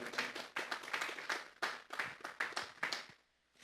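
A church congregation claps in bursts of applause that rise and fall, loud and close, before fading to near quiet at the end.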